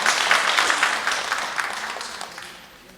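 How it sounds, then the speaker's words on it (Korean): A crowd at a monthly community meeting applauds in a short burst of clapping from a roomful of people, loudest at first and fading out over a few seconds. "박수, 힘찬 박수 부탁드릴게요."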